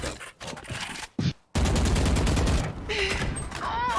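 Rapid gunfire bursts in the video game Valorant, on the map Fracture, crackle up close, broken by short pauses, then settle into continuous firing with faint game effects.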